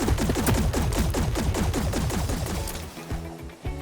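Rapid automatic gunfire from the duonic gun in the video game Hawked, a fast steady burst of loud shots that runs for about three seconds, then thins into a few scattered reports.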